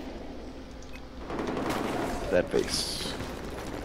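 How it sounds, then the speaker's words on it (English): Muffled bursts of gunfire from Battlefield 4, an enemy blind-firing around a hallway corner, rattle at moderate distance under a steady game-ambience roar, with a couple of sharper reports near the middle while a player talks over it. "He's like blind firing around the corner."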